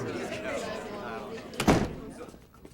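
Door slamming in a hospital drama scene, one loud thud cutting through ongoing talk and shouting, then a brief fade.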